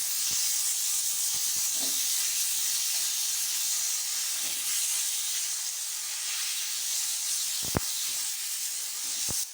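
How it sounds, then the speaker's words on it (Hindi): Tomatoes fry in masala for bhindi, giving a continuous loud hiss and sizzle across the whole stretch, with faint scattered clicks and one sharp knock near the end. "इस स्टेज पे अब हम इसमें टमाटर डालेंगे। इसको अच्छी तरीके से भूनेंगे।"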